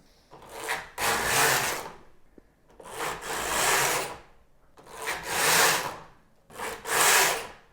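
A Knittax knitting machine carriage sweeps back and forth across rows, four loud whooshing, rasping passes with short pauses and clicks between them, close and alone.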